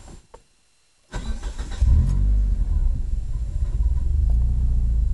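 An Eagle Talon engine cranks and catches after a second of quiet, then settles into a loud, steady idle rumble that continues close by to the end.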